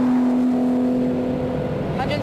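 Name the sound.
Aston Martin Vanquish S accelerating at high speed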